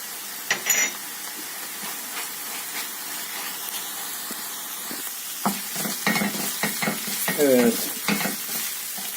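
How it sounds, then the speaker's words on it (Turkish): Meat sautéed with tomato paste in a pan, heard as a steady sizzle and hiss with occasional stirring scrapes and clinks, close and moderately loud, without talk. "Güzelce salçamı da etle birleştirip kavurdum."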